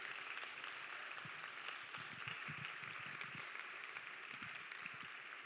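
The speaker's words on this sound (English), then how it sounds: "can everyone please give a round of applause to Tom and the ABC committee?" A church congregation claps in steady, sustained applause that fills the whole stretch, dense and even, heard from within the room.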